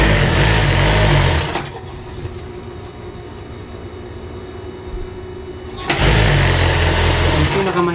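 Domestic sewing machine stitching curtain fabric, loud steady motor whir in two bursts at start and end with a quieter pause between while a voice speaks.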